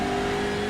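Racing engine of a Hyundai Elantra CN7 TCR touring car in iRacing, a brief steady mid-pitched drone held evenly for under a second.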